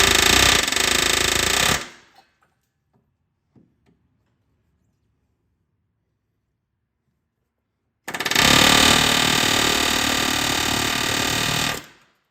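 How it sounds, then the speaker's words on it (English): Two loud bursts of an air hammer rattling rapidly on a 2005 Ford Ranger rear spring hanger, about two seconds at the start and four seconds near the end, separated by near silence with faint clanks. "I'm gonna get after that thing with an air hammer."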